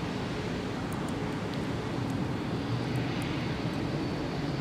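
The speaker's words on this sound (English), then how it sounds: "we're going to get a bonus A330neo departure" Continuous jet roar of an Airbus A330neo departing Minneapolis–St. Paul airport, a steady, fairly distant engine rumble heard alone.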